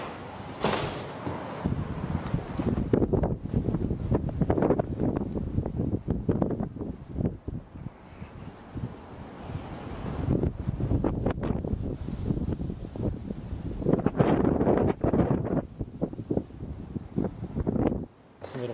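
Gusty wind buffets the microphone in rough bursts outside a house on Sacramento Street, with quieter stretches between gusts and occasional knocks.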